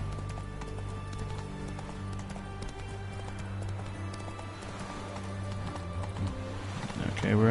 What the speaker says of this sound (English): You stupid horse. Jump.